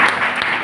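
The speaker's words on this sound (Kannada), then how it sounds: "ಚಪ್ಪಾಳೆ ಹೊಟ್ಟಿ ಜೋರಾಗಿ." A congregation claps loudly at a prayer meeting, a dense burst of overlapping hand claps filling the brief moment.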